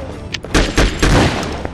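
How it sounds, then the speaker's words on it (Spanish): Shotgun blasts in the Conflict Desert Storm 2 video game, a few loud booming shots in quick succession, close and unaccompanied by talk. "Que la escopeta peta"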